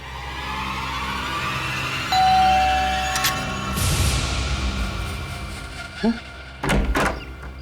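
A door opens with a sliding clunk and rattle amid a scene in a supposedly haunted house, followed by a couple of heavy thuds; a brief ringing tone sounds earlier, with no clear talk.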